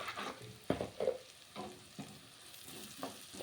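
Coriander-cumin powder fries in a pan with chili powder and masala, giving a soft, quiet sizzle broken by irregular spatula scrapes and stirring knocks up close.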